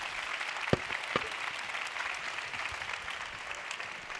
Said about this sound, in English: please a big round of applause for our speakers.